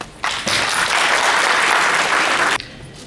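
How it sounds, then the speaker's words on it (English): Audience applause at a Canada Nepal Friendship and Cultural Society gathering in 2017, a dense, steady burst of clapping that swells in and holds for about two seconds before cutting off abruptly. "Let's give a round of applause."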